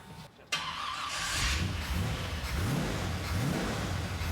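A truck engine cranks and catches, then rumbles loudly and revs up and down several times, close by and steady.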